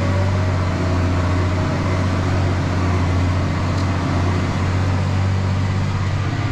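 Tractor engine droning steadily under load while sowing peas in a field, losing grip and crabbing sideways; a constant, close, low mechanical hum with no break.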